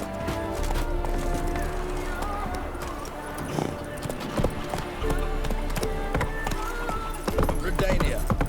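Horse hooves galloping in The Witcher 3, a steady clip-clop rhythm running throughout beneath game music and a voice.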